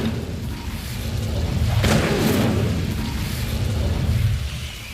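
A fire spell is cast in the Hogwarts Legacy video game, giving a dense, rumbling whoosh of flame with a sharp burst near the middle, steady and loud throughout.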